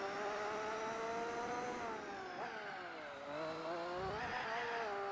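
A Formula GT race car engine in the video game Gran Turismo 4 drones steadily at high revs, its pitch dipping and rising slightly as the car shifts, continuous and fairly loud with no talk over it.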